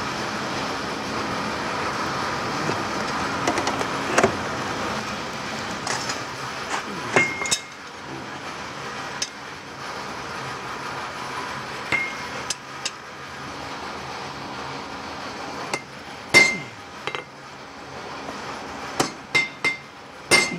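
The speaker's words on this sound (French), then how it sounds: "Modeler le métal, en fait. Ça, c'est ça que j'aime bien. Le forger, quoi." Hot metal is hammered at a forge, giving sharp ringing strikes with metallic clinks that come sparsely at first, then in quicker clusters toward the end, close and clear with no talk.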